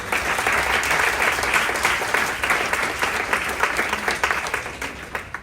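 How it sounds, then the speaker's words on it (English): A crowd applauds loudly and steadily, dense clapping filling the whole stretch without pause. "Please give all the new people a round of applause."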